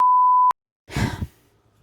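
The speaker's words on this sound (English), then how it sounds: "Beep. It's a family channel." A single loud, flat censor beep lasts about half a second, followed by a short sigh-like breath and quiet room noise.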